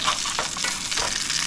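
Burgers fry in a pan with a loud, steady, close sizzle and crackle, a turning or stirring scrape audible briefly.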